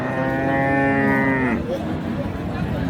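A beef cow at the Raniganj cattle market in Dinajpur gives one loud, long, close moo that ends abruptly, with steady market crowd noise underneath.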